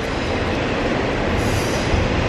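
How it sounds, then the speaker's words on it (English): A train rumbles steadily over Lydia's Bridge, a loud, continuous roar of wheels with some squeal, filling the whole moment with no talk. "Do you want us to wait until the train is done passing over?"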